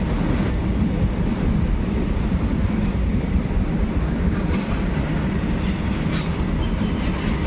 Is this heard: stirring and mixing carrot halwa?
no